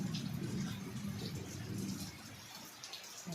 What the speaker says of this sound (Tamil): எங்கள் ஊரில் மழை பெஞ்சிட்டு இருக்குது